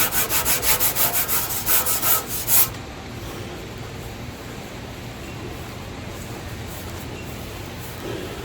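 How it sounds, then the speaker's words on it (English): A Scotch-Brite pad scrubs and blends the paint on a 1966 Chevrolet C10 patina truck, a quick run of rhythmic close rubbing strokes for a couple of seconds before it fades to quiet background hiss. "Scotch-Brite and we'll just clean this out."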